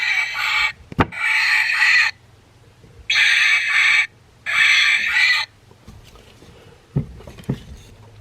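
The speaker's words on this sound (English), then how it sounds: "Eurasian jay." A Eurasian jay call played from a Wild Republic plush bird toy: several harsh, rasping screeches, each about a second long, fairly loud and close, with soft clicks and handling noise between them.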